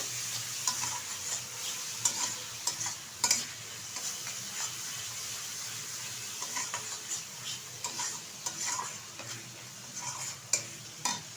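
Tomato paste sizzling and frying in a pan for mutton kosha, with steady crackle and repeated stirring scrapes and clinks throughout, close and moderately quiet.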